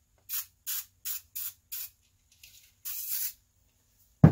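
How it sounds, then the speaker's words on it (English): Five short, sharp aerosol bursts of WD-40 lubricant in quick rhythm, a pause, then one longer hissing spray, close up, ending with a soft thump. "I spray everything with WD-40 now."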